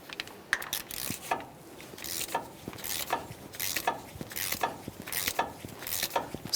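A ratchet clicks in repeated short bursts while an axle nut on a 2015-2020 Ford F-150 hub is torqued, close and fairly quiet, with light metallic rattles between strokes.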